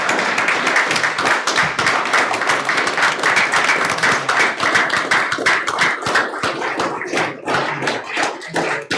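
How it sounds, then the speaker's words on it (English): Audience at a school governing board meeting gives students a round of applause, a loud, dense burst of many hands clapping that stays steady, then gets choppier and sparser toward the end. "Let's give them a round of applause."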